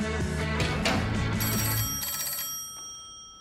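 A telephone rings loudly and clearly in a home, bright repeated bell tones that fade toward the end, with no talk over it.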